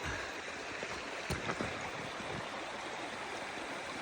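Creek water flows steadily in a wilderness setting, a continuous close rushing and trickling that runs alone throughout with one brief louder splash.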